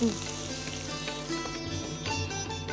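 Onion pieces fry in a pan for a sago dish, a dense continuous sizzle with faint stirring clinks, steady and close with no talking.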